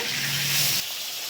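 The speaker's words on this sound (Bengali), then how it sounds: "মাছগুলোকে আমি উল্টে পাল্টে ভালো করে ভেজে নেব।" Fish frying in mustard oil sizzles steadily up close while being turned, with a brief stirring clatter before the sizzle settles slightly quieter.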